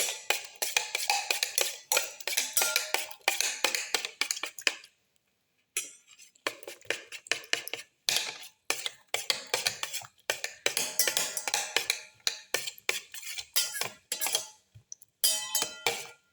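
Garlic, ginger and other ingredients for a black pepper mustard leaf omelette being mixed and crushed, heard as rapid irregular clinks and scrapes against a bowl or mortar, close and crisp, with one brief pause midway.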